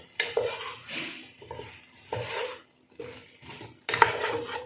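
Curry gets stirred in a pot in several separate close-up bursts of scraping and clinking against the metal, with faint sizzling between strokes.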